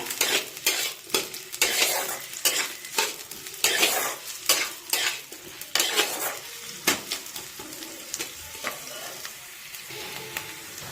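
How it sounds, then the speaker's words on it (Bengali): Chopped onions fry lightly in oil in a pan, a soft sizzle broken by repeated scraping strokes of a utensil stirring against the metal, close and clear with no talking. "পেঁয়াজগুলোকে হালকা করে ভেজে নেব।"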